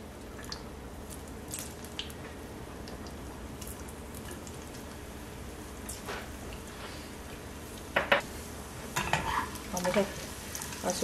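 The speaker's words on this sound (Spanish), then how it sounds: "Vamos a esperar a que se caliente el aceite para echar el platanito." Plantain pieces fry in hot oil for a Chinese-style rice dish: a low, steady hiss gives way to louder crackling sizzle and scattered pops near the end.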